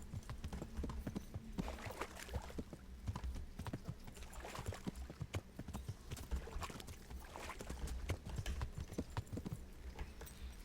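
A horse's hooves clip-clop in a steady, even walking rhythm in the medieval game Kingdom Come: Deliverance, continuous and moderately close for about ten seconds with no speech over it.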